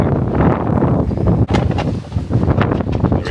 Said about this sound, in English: It's a little windy. I don't know if you guys can hear me, but it's over here in Montana. The winds are crazy over here.